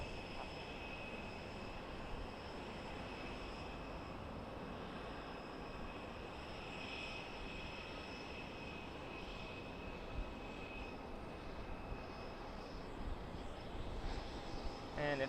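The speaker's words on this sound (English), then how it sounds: "Alaska E-175 coming in from Seattle, Washington, as you might expect." An Alaska Airlines Embraer E-175 jet arriving at Boise Airport from Seattle produces a steady, distant roar of engine noise that holds throughout with little change, heard outdoors without any talk.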